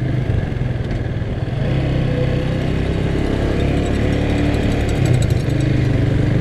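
A Vento Rocketman 250 cc motorcycle accelerates smoothly, its engine a steady, loud, continuous buzzing drone heard up close with no speech over it.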